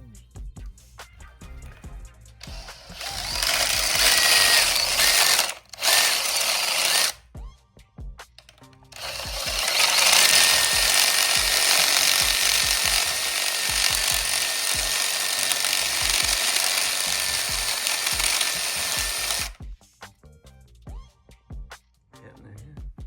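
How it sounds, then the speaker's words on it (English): A power drill drives a step bit to taper a hole for a golf cart brake shaft, giving loud sustained grinding runs broken by short stops, with talk before and after. "So we're gonna use the step bit, kind of just give it a little taper on the bottom and help massage it"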